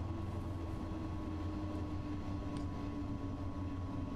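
Train arriving at a station in Train Sim World 2 on a Dresden Nahverkehr run: a steady, low rumble with a sustained tonal hum, rolling along evenly at moderate loudness with no speech.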